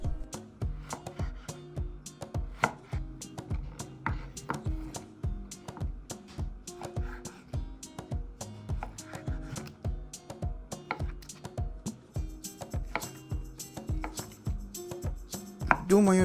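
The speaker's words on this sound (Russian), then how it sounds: "Нарезаем кубиком." A knife chops tropical fruit into cubes on a cutting board for a salad with crab sticks, in a steady run of close, crisp taps that lasts throughout with brief pauses.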